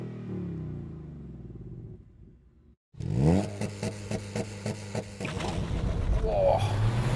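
A 2022 Hyundai i20 N hot hatch idles, goes briefly quiet, then launches at full throttle with a loud, close engine roar. Revs climb through rhythmic stuttering bursts.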